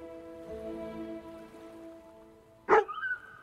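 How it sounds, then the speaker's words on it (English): A dog in the video game Farewell North gives a single short bark near the end, loud and close after a quiet stretch of soft music. "There's the bark."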